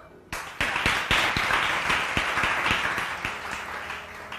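Audience applause breaks out abruptly and holds steady, a dense crowd of hands clapping with a few sharper individual claps standing out, fairly close and without talk.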